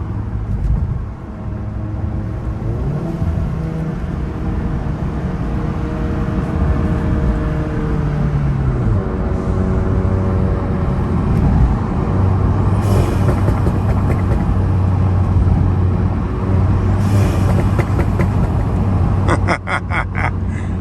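A Volkswagen GTI with upgrades accelerates and drops through gears, its engine note loud and close, rising and falling with each shift while a crackle or blow-off hiss punctuates the end.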